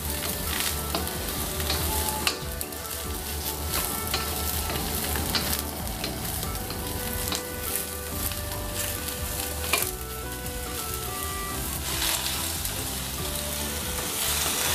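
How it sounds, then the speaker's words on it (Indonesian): Eggplant stir-fried in a hot pan, a steady loud sizzle of frying oil running throughout with faint stirring scrapes and clinks, no voices. "Lalu masukkan terong. Kita oseng-oseng terongnya ya."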